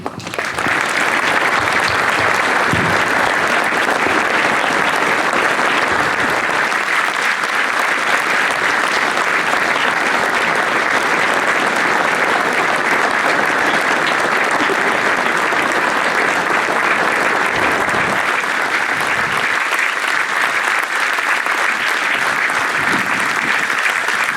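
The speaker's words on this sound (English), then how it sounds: "I'm sure you'd like to pay your own respects now, ladies and gentlemen, with a minute's applause in memory of the great man" A speedway crowd at a Newcastle Diamonds versus Redcar Bears Championship Shield meeting gives a minute's applause in memory of Ivan Major, loud dense clapping sustained without pause.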